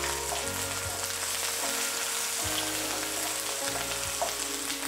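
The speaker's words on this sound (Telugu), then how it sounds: "ఇప్పుడు మనం ఇందులో అల్లం వెల్లుల్లి పేస్ట్, వేసి కలపాలి" Ginger garlic paste sizzles steadily in a hot pan for an Indian chana masala curry, a close, continuous hiss broken by a few soft scrapes of stirring.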